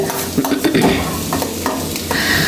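Green chili and finely chopped onion are sautéed in a pan for a lunchbox dish, with a steady sizzle and the scrape and clatter of a spoon stirring the vegetables up close.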